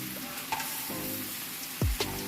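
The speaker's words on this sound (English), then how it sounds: "because we want the cabbage to fry" Cabbage fries with sausage and bacon in a pan, a steady close sizzle. Several stirring scrapes and clatters, including one sharp metal sweep, break through the hiss, and no one speaks.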